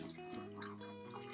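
Boiling water poured from an old MSR teapot into a cup, a steady close liquid trickle and splash lasting throughout.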